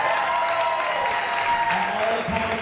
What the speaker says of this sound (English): I think we also need to give a big round of applause to Paul for putting this on.